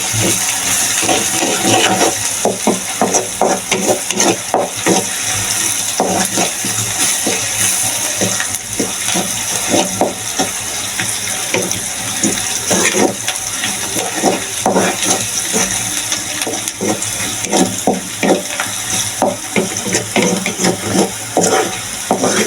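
Onions frying in oil in a pan, stirred steadily with repeated scraping clicks over a constant close sizzle, while cooking red amaranth greens with fish.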